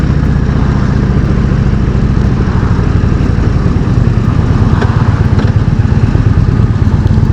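An Indian Chieftain motorcycle rumbles steadily while being ridden, its loud, constant engine drone and wind noise filling the whole stretch without letup.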